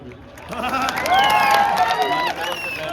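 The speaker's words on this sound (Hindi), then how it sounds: "तालियां बजाओ" A large crowd at a Darussalam Day anniversary celebration in Hyderabad breaks into sustained applause and cheering, the dense clapping mixed with voices and a tonal musical backdrop throughout.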